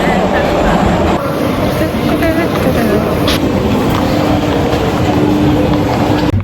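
A metro train at Sahil metro station, a loud continuous rumble and rail roar heard close up from aboard or on the platform, steady throughout with brief screeching tones.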